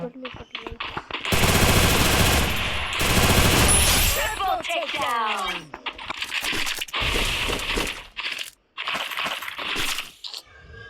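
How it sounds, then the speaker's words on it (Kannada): Bursts of rapid automatic gunfire and single shots from a fighting video game crackle loudly in several blocks, with sharp metallic clinks between them and a voice talking in the gaps. "ಇಲ್ಲಿ ಯಾರೋ ಫೈಟಿಂಗ್ ಆಡ್ತಾರೆ, ಗನ್ಗಳು ಬುಲೆಟ್ ಸೌಂಡ್ ಕೇಳಿಸ್ತು"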